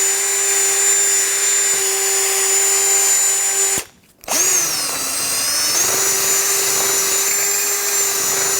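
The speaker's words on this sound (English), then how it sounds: "I'm using a bore brush. You could just use anything else that you might have, a piece of sandpaper, and just spin it around in there to clean it all up." A bore brush spins steadily inside the ball joint hole of a steering knuckle on a 2012-2019 Fiat 500, producing a loud, close, continuous power-tool whine with a brief pause midway before spinning up again.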